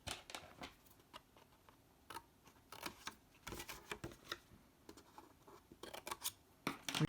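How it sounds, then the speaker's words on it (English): Scissors cutting through card along scored lines for a handmade box, a series of close, crisp snips and slicing rasps in uneven bursts separated by brief pauses, quiet overall with no speech. "we want to cut this line and this line,"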